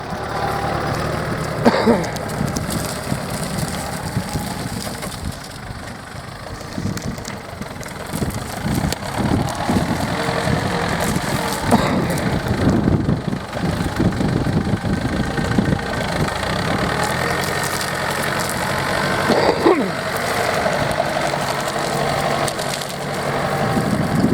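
A tractor engine runs continuously during reversible plough adjustment, a loud rumbling idle with uneven throbbing and rattling vibration, close by throughout.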